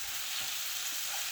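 Coconut meat and yucca stir fry sizzling steadily in a pan, a constant close hiss of frying with no talk.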